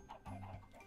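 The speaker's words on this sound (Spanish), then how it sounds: "Hay un millón de gallinas." Chickens on a Minecraft video game farm, a series of soft, quiet game clucks and short calls in quick succession, heard alone.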